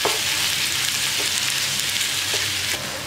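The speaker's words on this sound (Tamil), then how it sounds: "வெங்காயம் ஓரளவுக்கு நல்லா வதங்கினதும் கூடவே தக்காளி போட்டு நல்லா வதக்கலாம்." Onions and tomatoes sauté in a hot pan for chana masala, giving a steady, loud sizzle with faint stirring scrapes throughout and no voices.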